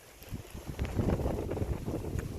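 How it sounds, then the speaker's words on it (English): Wind gusting across a rural hilltop, a continuous, rough low rumble of air buffeting the microphone that swells and stays strong for the whole short stretch. "Bit windy up here, buddy."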